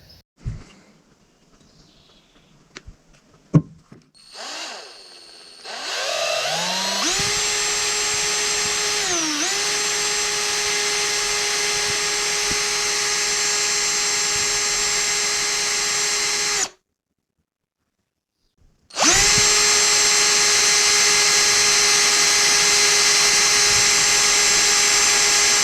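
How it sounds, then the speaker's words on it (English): A power drill spins a Q-tip loaded with wheel polish inside a Ski-Doo 335 snowmobile carburetor, whining steadily at high pitch after a few handling clicks, stopping briefly, then starting again, loud and close. "put the Q-tip in a drill, and it'll really clean out the gunk in here"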